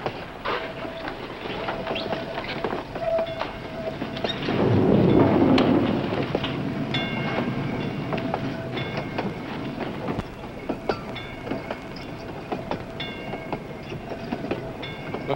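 Old train in a 1960 film rolling along the rails, a steady low rumble and clatter with a louder swell midway and faint rhythmic clicks throughout, heard alone.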